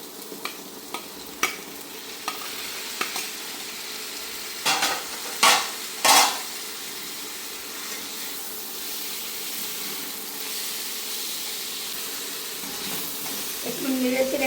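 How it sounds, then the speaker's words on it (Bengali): Small river fish and golden fried potatoes stirred together in a pan, with scraping strokes of the spatula and a few louder clatters over a soft, steady sizzle. "একটু নেড়ে একটু মিশিয়ে দেবো আলু এবং মাছ।"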